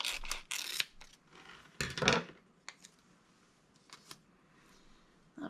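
Scissors cutting out a small piece of heat transfer vinyl, close crisp snips and rustling sheet handling in irregular bursts, then quieter scattered clicks.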